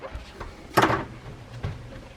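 A door is pushed open after being unlocked at Madame Tussauds in London, a short creak and knock midway, a fainter bump near the end, with quiet voices in the background.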